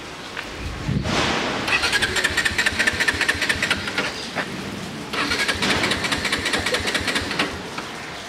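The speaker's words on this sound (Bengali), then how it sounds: "চাবি দিয়ে অন করার ব্যাপারটা একটু দেখেন।" A motorbike engine is started with the key via its self-starter: a brief cranking burst around one second, then a loud, steady idle with a busy mechanical rattle, dipping briefly near five seconds before resuming.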